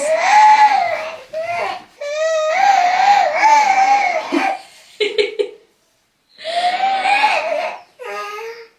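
A baby makes drawn-out squealing, warbling vocal noises in several bursts with short pauses, loud and close, edging toward cries and whimpers.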